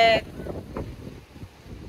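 Strong wind blows at Praia das Bruxas beach in Florianópolis, heard as a steady, close, low rumbling buffet against the microphone for the whole stretch, with a brief voice at the very start.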